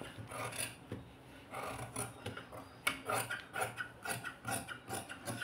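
Fabric being cut in a round shape for a cut work neckline, scissors snipping and rasping through cloth in a close, steady series of short crunchy strokes with no talk.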